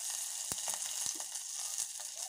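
Mustard seeds and cumin crackle and sizzle in hot oil during tempering, a steady loud frying hiss with a few sharp pops near the microphone.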